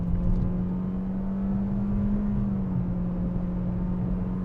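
Steady engine drone from a 2020 Toyota C-HR with 144 horsepower and a CVT, held near 5,000 RPM under acceleration, a constant loud hum with a slowly shifting pitch and no voices.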